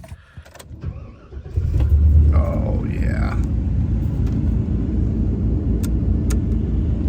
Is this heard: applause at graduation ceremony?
no